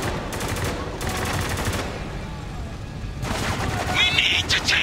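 Gunfire from the video game Spec Ops: The Line, rapid bursts of automatic shots rattling in clusters with dense battle noise behind, fairly loud and continuous, with some voice chatter mixed in.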